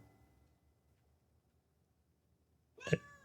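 One short cat meow, close and fairly loud, arriving suddenly after nearly three seconds of quiet room hush, with no talk alongside it.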